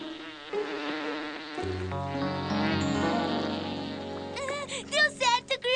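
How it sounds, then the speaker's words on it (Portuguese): A bee buzzing in a park, a close, loud, wavering drone that rises and shifts pitch, ending in a few sharp buzzy swoops. "Uma abelha! Tchau, abelha!"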